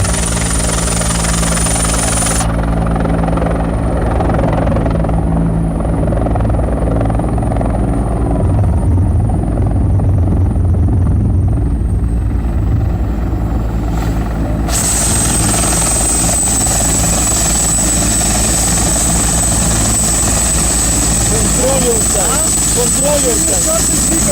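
A helicopter's loud, continuous rotor drone fills the whole stretch, steady and close, with its whine shifting slightly partway through, at a military history festival.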